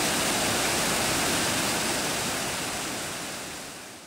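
A clear river flowing through the Gero Onsen hot-spring town, heard as a loud, steady rushing wash of water that fades slightly toward the end.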